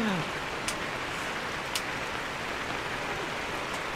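Heavy rain falls at the Silver Waterfall in Sapa during the stormy season, a steady close hiss of downpour with a couple of brief sharp high splashes, no one talking.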